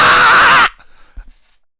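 A human voice imitates a blood-curdling dragon scream, a loud harsh screech held for under a second that cuts off abruptly, followed by faint breathy noise and a soft low thump.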